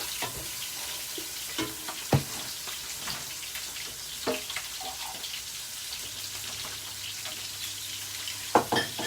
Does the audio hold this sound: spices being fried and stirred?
yes